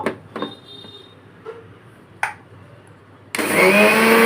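Poppy seeds go into an electric mixer grinder, which roars loudly into its whine for the final second after a few scattered clicks and knocks.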